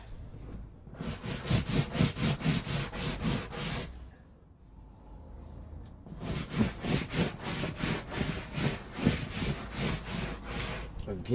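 Cloth rubbed briskly back and forth over old leather with a beeswax polish, a close, steady rhythmic scrubbing in quick strokes that pauses for about two seconds midway and then resumes.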